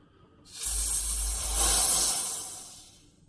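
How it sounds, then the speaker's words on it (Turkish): Pressurized gas hisses out in one sustained, fairly loud burst, swelling for about two seconds and then tapering away into quiet. "Şimdi de gazını alacağım."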